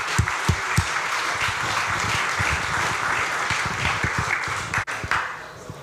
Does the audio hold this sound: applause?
yes